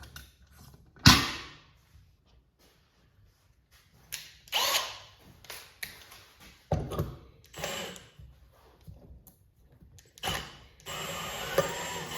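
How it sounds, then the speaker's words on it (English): A drill runs in several short, uneven bursts separated by pauses, with some mechanical clicks and rattles between them, drilling out a broken bolt; fairly close, no talking. "Guess we'll just have to drill a little further."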